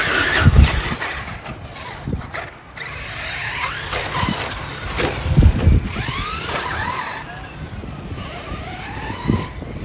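A Team Associated RC8T3e RC car rips around a dirt track, its high motor whine rising and falling in passes with bursts of wind buffeting the microphone and no talking.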